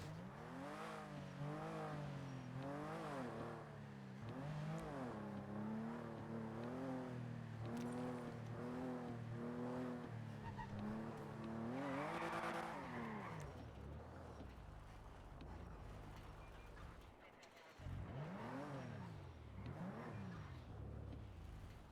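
Engines rev and whine as cars race past one after another in the video game NoPixel 4.0, pitches rising and falling in quick succession, steady and continuous, with no voices.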